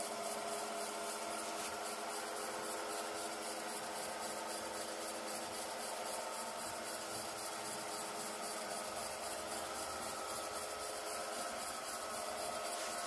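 Amboyna burl wood spinning at low speed on a lathe while CA glue finish is rubbed into it, giving a steady, continuous rubbing hiss over a motor whine, close and even throughout with no talking.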